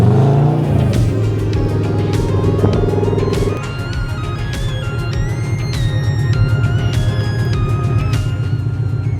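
A Subaru-engined VW T2 pickup drives off and accelerates, its engine revving up loudly and steadily with gear changes, close and continuous throughout.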